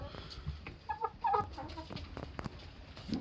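Hens cluck close by in short, uneven bursts, with a few sharper squawks over faint background rustling.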